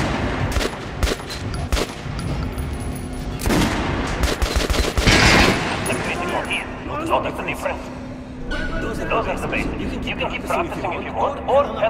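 Rapid bursts of gunfire from the first-person shooter Metro Last Light, loud and clustered with repeated sharp shots, mixed with game effects and a voice talking over the action.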